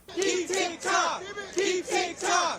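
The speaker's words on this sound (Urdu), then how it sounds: "اسی دوران کانگریس کے باہر کچھ افراد اس بل کی مخالفت میں نعرے لگاتے رہے۔" A crowd of protesters outside Congress in Washington chants slogans against a TikTok bill, loud rhythmic shouted phrases repeating in bursts of two or three.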